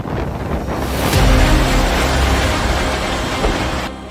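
Storm Benjamin's strong winds and crashing waves sweeping across Europe in late October make a loud, continuous rushing roar with heavy low rumble and wind buffeting the microphone, swelling midway and easing near the end.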